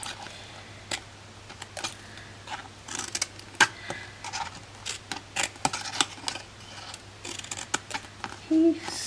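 Scissors snipping cardstock corners while making a gift box, a few sharp, scattered cuts close by over a quiet room hum.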